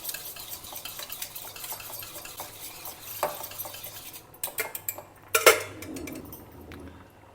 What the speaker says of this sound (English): and just whisk it well.